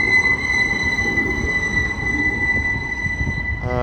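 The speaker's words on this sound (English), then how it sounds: "These trams connect very well from Wolverhampton to Birmingham." A Wolverhampton tram rolls past close by, a loud steady rumble with a high sustained wheel squeal running throughout and no voices.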